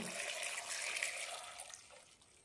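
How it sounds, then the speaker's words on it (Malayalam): Water poured into a pressure cooker over cut jackfruit pieces for Kerala-style jackfruit curry, a close splashing pour that runs steadily and then fades toward the end. "ഇതിലേക്കൊരു ഒന്നര കപ്പ് വെള്ളം ഒഴിക്കാം"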